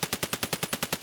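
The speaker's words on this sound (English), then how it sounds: "here's the US rounds on the kind of like budget RD-704, not compensating for recoil at all" An RD-704 rifle in a video game fires a fast automatic burst of about ten sharp, evenly spaced shots in just over a second, loud and close.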